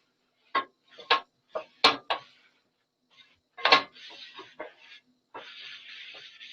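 A cooking pan is cleaned quickly before roti making, with a series of close, separate scraping and wiping strokes followed by a brief rubbing swish.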